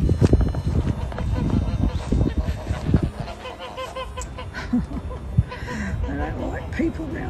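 Geese honking nearby, a jumble of harsh calls and squawks from a flock, loud at first and then scattered calls continuing.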